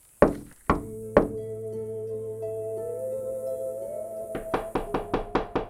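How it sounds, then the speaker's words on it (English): Three sharp wooden knocks ring out at a steady pace, followed by a low sustained hum and then a faster run of about eight lighter knocks, all close and clear with no voice. "A rumbling sound, then 3 sharp knocks."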